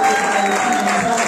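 A church congregation applauding during a Sunday service, a dense, steady wash of clapping that fills the whole moment at close range, with a faint sustained tone running beneath it.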